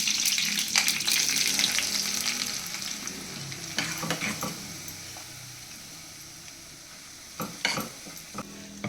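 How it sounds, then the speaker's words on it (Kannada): A tempering for garlic chutney powder is stirred in a pan. Steady frying crackle sits under repeated scraping strokes of a spoon, with a few sharper clinks, heard close and without speech. "ಅದು ಹಾಕಿ ತಿರುಗಿಸ್ಕೊ. 2-3 ನಿಮಿಷ ಸುಮ್ಮನೆ ತಿರುಗಿಸ್ಕೊ."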